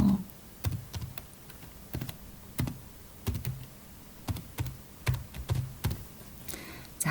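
Close typing on a computer keyboard while filling in an email field on a website sign-up form: irregular bursts of crisp key clicks with short pauses between them, and no voices.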